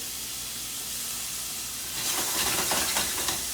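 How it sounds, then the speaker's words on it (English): Diced onions and vegetables sauté in a pan, making a steady hissing sizzle that swells louder partway through, with crackles and brief stirring scrapes, close and alone. "And we are gonna saute these."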